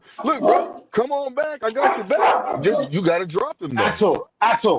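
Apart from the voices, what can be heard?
dog barking in the room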